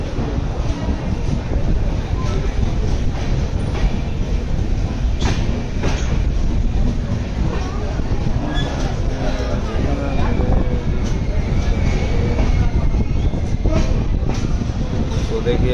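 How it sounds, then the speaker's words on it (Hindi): A Goa Sampark Kranti Express rolls steadily after leaving the platform at Thivim, with a constant low rumble and rhythmic wheel clatter heard from inside a carriage, and faint voices under the train noise. "तो थीवीम के हम लोग एक नंबर प्लेटफॉर्म से डिपार्ट हो चुके हैं"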